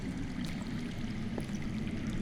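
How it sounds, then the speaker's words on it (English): Water flowing underground in the Game of Thrones Telltale game, a steady low rushing stream with faint trickling splashes, continuous and muffled as if heard through rock. "I hear water. From underground?"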